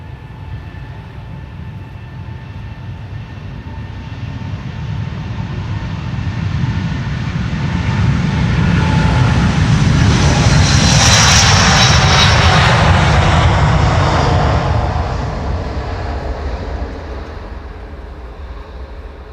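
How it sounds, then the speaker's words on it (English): A Delta Airlines Airbus A330neo jet takes off from Schiphol's Polderbaan runway, its engine roar swelling from a steady distant rumble to a loud, hissing peak around the middle before fading back down, with no voices present. "This is Delta Airlines Flight 49. Another flight to New York JFK. A330 Neo."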